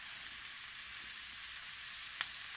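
Lasagna ingredients frying in a pan give a steady broad sizzling hiss, close and even, with a faint tap near the end and no voices.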